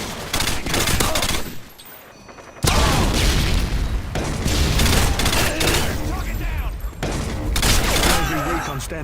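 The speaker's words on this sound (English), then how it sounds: "Thunderous 3-round burst, somehow high-pitched and low-pitched at the same time" Three-round bursts from the M91 rifle in Call of Duty: Modern Warfare 2019, loud thunderous shots fired in repeated short bursts, with sharp high crack and deep low boom, broken by a brief quiet gap.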